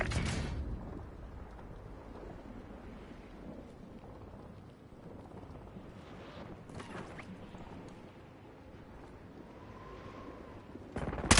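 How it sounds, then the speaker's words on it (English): In Call of Duty Warzone, a napalm airstrike sets the target area burning, a steady roaring crackle of flames like heavy rain, with sharp bursts at the start and end. "Napalm drop. Target area is burning."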